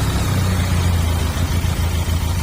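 Close, steady idle of a 2020 Benelli TRK502X motorcycle engine, a loud continuous low thrum with only slight wavering, no voices over it.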